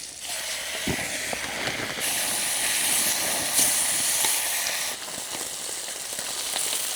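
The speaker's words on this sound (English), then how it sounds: "Get some bacon going." Bacon frying in a hot pan at a motorcycle campsite: a loud, steady sizzling hiss that carries on for the whole stretch and swells slightly midway, with no voices over it.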